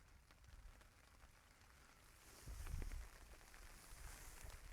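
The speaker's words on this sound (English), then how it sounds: "Yep, there's the rain." Rain falling on a tent at a freezing winter wild camp, a soft, steady patter of drops on fabric that swells briefly louder midway, faint and close, with no talking.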